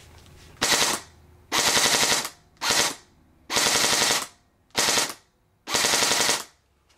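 An airsoft gun fitted with a Burst Wizard King Kong mosfet fires six loud, close bursts of rapid full-auto shots, each about half a second to a second long, separated by brief pauses.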